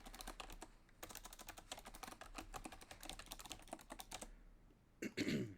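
Someone types a password on a computer keyboard while setting up a UGREEN DXP6800 Pro NAS. Bursts of quick, close key clicks come in uneven runs, with a short pause near the end and a brief throat-clearing noise at the close.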